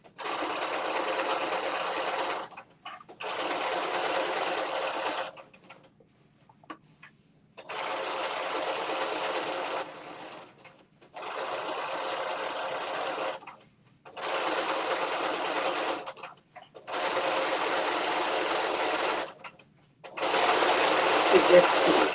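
Domestic sewing machine top-stitching along a folded-down half-inch waistband edge on a wrap dress, running in steady bursts of a few seconds each with short pauses between, close and loud.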